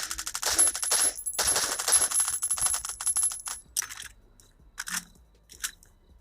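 Rapid bursts of gunfire and sharp impacts from the mobile survival video game Last Island of Survival, loud clustered shots followed by scattered single cracks and pauses.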